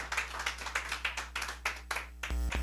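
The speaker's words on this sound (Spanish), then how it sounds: "Dele un aplauso a Cristo." A small church congregation claps in steady rhythmic unison during a sermon, hands beating together repeatedly for a couple of seconds before a low hum takes over.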